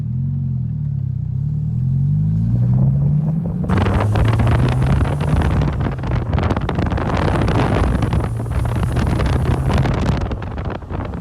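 A VW MK4 1.8T with a custom cat-back exhaust idles with a low, throaty rumble that rises, then settles into a steady gurgling drone, loud and close, with wind buffeting the microphone.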